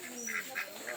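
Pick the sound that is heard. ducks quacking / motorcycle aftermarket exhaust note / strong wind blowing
ducks quacking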